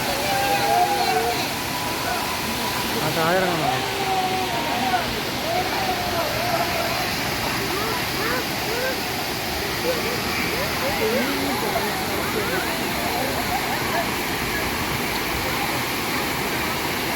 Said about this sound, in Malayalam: ചെറിയ ഇടയ്ക്കിടയ്ക്ക് കുറേ ചെറിയ ചെറിയ വെള്ളച്ചാട്ടമുണ്ട്